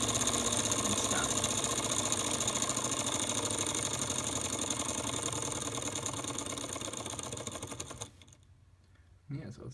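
A small model Stirling engine runs on an alcohol flame with a fast, even mechanical clatter like rapid ticking. It continues steadily, fades, and stops near the end, leaving near-silence.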